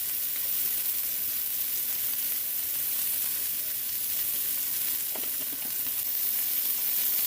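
Cut chicken pieces fry in a pan with a steady, close sizzle and light crackle, continuing evenly with a few faint utensil touches.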